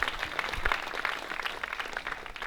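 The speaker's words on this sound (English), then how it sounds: "Can we please clap?" An audience at a virtual reality meetup's opening presentations in Los Angeles gives a short burst of applause. The clapping is a dense, crackling patter of many hands, moderately loud and continuous.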